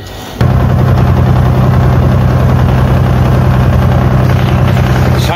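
Steady, loud drone of a boat engine on the Brahmaputra river, starting abruptly and then running at a constant low hum with vibration throughout, no talking.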